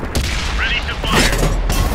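In the World of Tanks video game, a tank cannon fires as a heavy boom over a constant low engine rumble, with a voice speaking briefly around the shot.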